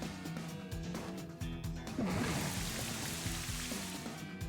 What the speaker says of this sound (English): set up Rain Dance